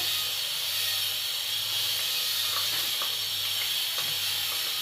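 Cinnamon, cloves and bay leaf sizzle in hot oil at the start of a chicken tikka biryani, a steady close hiss with faint crackles running throughout.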